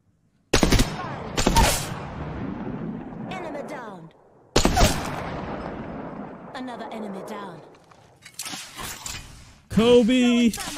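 Gunfire in the Apex Legends video game: several sharp, loud bursts of shots with decaying tails, separated by pauses, with a voice talking over and between them and a final noisy burst at the end.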